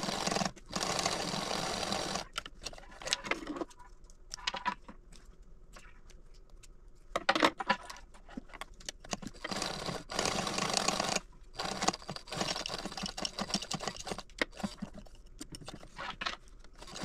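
A sewing machine labors through a thick small purse, its needle chattering in long rapid bursts broken by brief pauses and slower stitches where the work is nearly cranked by hand.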